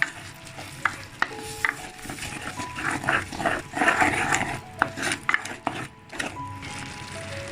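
Green chillies and a ground paste being sautéed and stirred in a clay pot for dried anchovy thokku, giving a steady soft sizzle with repeated scraping and stirring clicks, close and moderately loud, with no talk.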